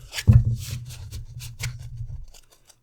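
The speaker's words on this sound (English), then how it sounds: "while I shuffle your other cards again" Tarot cards being shuffled by hand close up: a soft thump early on, then a run of quick papery rustles and riffles that fade out toward the end, with no talking.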